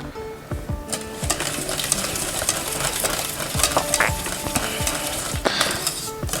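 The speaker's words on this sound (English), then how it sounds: "We stir this until the butter is all melted" Butter is stirred into an ube mixture until melted, with a utensil scraping and clinking rhythmically against the pot, close and fairly loud, over a faint sizzle.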